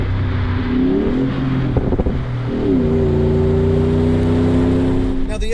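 A Range Rover Sport L320 with a Magnaflow exhaust revs up close and loud, its engine note climbing twice in rising sweeps over a deep steady rumble, with no talking.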